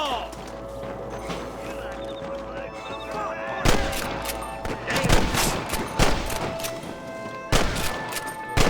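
Rapid bursts of gunfire crack out in a Red Dead Redemption shootout at a camp, scattered shots then clustered volleys over a steady game background, with hoofbeats and voices talking in between.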